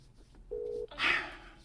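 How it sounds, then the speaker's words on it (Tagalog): A phone dialing a number gives a short tone followed by a brief burst of dial or call tones, quiet and close, with no talking. "Ikaduha na nako ning pagdayal sa number ni Corina."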